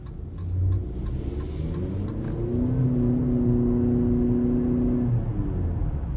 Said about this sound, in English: We're going to give it throttle a couple times, but not going to floor it.